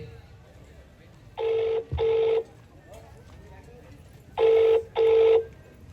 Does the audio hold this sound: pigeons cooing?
no